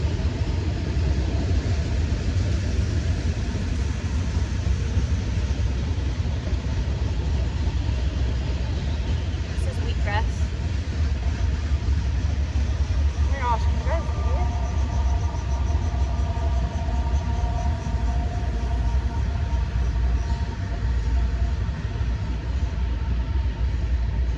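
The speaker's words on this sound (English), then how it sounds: "whenever I want to film a video, of course, a train comes." A steady heavy rumble of a passing train fills the whole stretch, continuous and loud, with brief squeals of wheels rising partway through.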